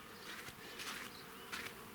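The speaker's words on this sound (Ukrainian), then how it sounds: "бджоли літають" Bees buzzing nearby, a continuous droning hum with a few louder passes as insects fly close.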